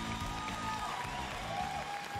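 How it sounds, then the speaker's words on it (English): Crowd applause at a video game showcase presentation, a continuous wash of clapping mixed with faint cheering and tonal stage sound underneath, moderately distant. "Can I get another round of applause,"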